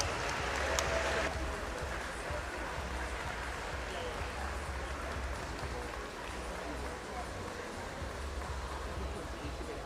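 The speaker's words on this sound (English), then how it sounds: "give him a huge round of applause" An audience applauds at the Swim England National Winter Championships, a steady wash of clapping that fills the indoor pool hall for the whole stretch, with a voice talking over it near the start.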